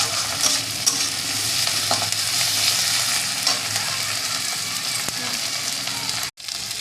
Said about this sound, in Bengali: আবার টমেটো কুচি দিতে দিতে এটাকে নাড়তে হবে যতক্ষণ না লাল হবে না ততক্ষণ।